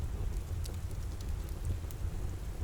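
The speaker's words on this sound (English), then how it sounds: "The rain continues to tap at the windows" Steady rain patters against cottage windows in a constant, soothing rhythm, a dense wash of drops with faint scattered taps on top, unbroken throughout and with no voices.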